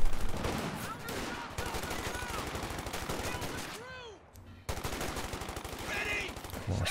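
Thompson submachine guns in a Company of Heroes 2 battle, rattling in long rapid bursts, dense and continuous, with a brief lull before the firing resumes amid distant battle noise.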